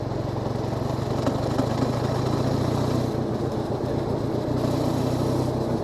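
A Harley-Davidson X500 motorcycle rumbles along in top gear at low speed through congested streets, its engine a steady, close, low-pitched drone.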